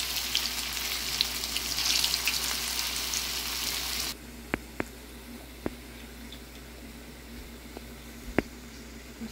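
Veg manchurian balls deep-fry in hot oil with a loud dense sizzle that drops abruptly to a quieter simmer partway through, followed by a few sharp clicks and taps, with no talk.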